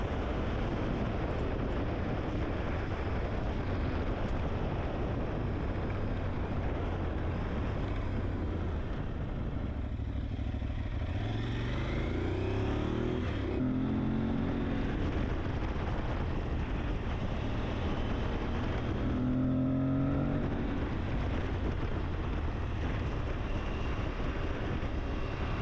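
An Aprilia Tuareg 660 motorcycle ridden along twisting back roads, its engine droning steadily throughout under heavy rushing wind buffeting the microphone, with brief rising revs as the rider works through the turns.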